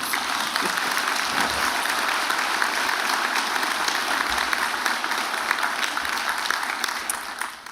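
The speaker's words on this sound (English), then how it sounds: "And can we give them a round of applause for that, please?" A full round of audience applause at a spring university convocation ceremony honouring an honorary Doctor of Laws recipient: dense, sustained clapping that holds at a steady level throughout and then tapers off near the end.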